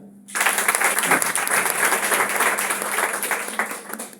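A large audience at a Vestige company event breaks into sudden, sustained applause that starts sharply and holds loud and even to the end.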